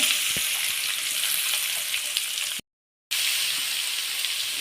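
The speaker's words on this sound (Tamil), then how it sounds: "வெங்காயத்தை செத்துடலாம் பெரிய வெங்காயம் தான் இது போல் அரைஞ்சி சேர்த்துக்கோங்க" Ground large onion paste fries in a pan with a steady, close sizzle that cuts out briefly midway, then resumes just as before, with no talking.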